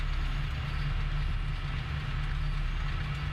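Train rumbling steadily along in the Train Sim World 2 simulator on an MP15DC maintenance run, a continuous loud low drone with faint rail noise and no talk.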